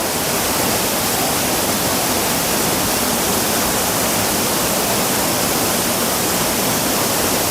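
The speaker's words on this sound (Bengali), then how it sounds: "তো আমরা এখন গুন্ডিচা ঘাগড়ি ওয়াটারফলসে আছি।" Monsoon water thunders down Gundicha Ghagri waterfall in Keonjhar, a dense, loud, unbroken roar of rushing water that stays constant throughout, heard alone and close by.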